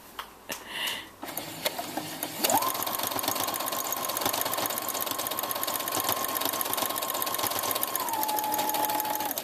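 A sewing machine runs steadily while stitching a crib sheet, its motor whirring in a continuous buzzing drone for several seconds after a few handling clicks and bumps. The sound is close and fairly loud.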